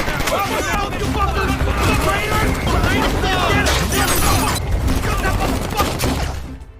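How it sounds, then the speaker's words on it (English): Gunfire in a gangster movie shootout between two armed groups, a dense continuous barrage of shots with crackling bursts and shattering, loud and close, with voices and commotion mixed in before it cuts off. "suddenly a gunshot was heard"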